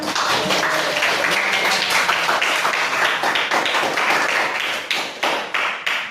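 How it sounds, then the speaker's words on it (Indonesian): Classroom of students clapping together at the end of a chemistry lesson on acids and bases, loud rapid patter close by that thins into a few scattered claps toward the end. "Tepuk tangan untuk kita semua"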